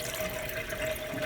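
Water runs steadily from a tap into a sink while butter is rinsed and kneaded, a soft continuous splashing stream with a faint tonal hum, no voices.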